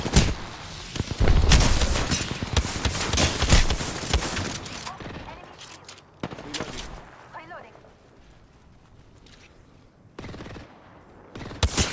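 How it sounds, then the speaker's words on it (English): Rapid bursts of gunfire from another squad in the video game Apex Legends rattle loudly in dense volleys, then break off into scattered shots and brief later bursts, with game sounds and a voice mixed in. "Those shots are from another squad."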